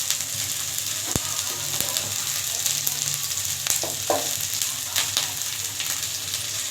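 Ginger, garlic and onion paste frying in a pan with a steady sizzle throughout, broken by a few sharp scraping clicks and stirring taps, close and alone with no talk.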